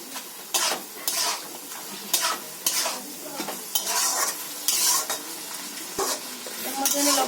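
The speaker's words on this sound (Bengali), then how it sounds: "চিকেনটা একটু কষিয়ে নিচ্ছি।" Chicken pieces being stirred and sautéed in a pan, a Bengali-style cooking step with rui fish head and greens nearby: steady frying sizzle broken by repeated scraping spoon strokes at close range, with no talking.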